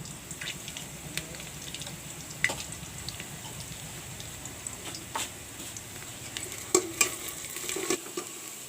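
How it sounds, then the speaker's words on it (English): Onions frying to golden brown in a pan for simple fried rice, a faint steady sizzle dotted with scattered light clinks and scrapes of stirring. "Onions are turned golden brown."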